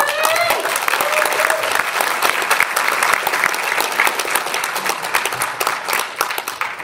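Sustained, loud applause from a crowd at the Hawaii Hemp 2018 gathering, with many hands clapping continuously and evenly, tapering slightly toward the end.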